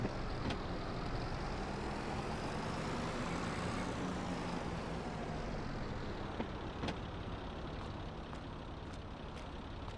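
A vehicle drives steadily in Farming Simulator 22, a continuous low engine rumble with a rising and falling tone, joined by a few faint clicks and ticks near the end.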